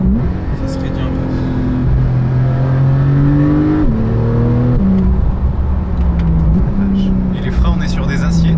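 A Porsche 911 991.2 GTS engine pulls hard in sport plus mode, heard from inside the cabin as a loud, steady drone with the pitch climbing through the gears and dropping at each shift.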